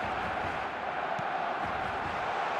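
A stadium crowd in the eFootball video game gives a dense, steady roar of massed voices before kickoff, loud and continuous throughout with no commentary over it.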